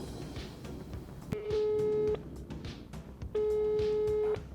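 A telephone busy signal: two long, steady electronic tones separated by a pause, over faint background noise.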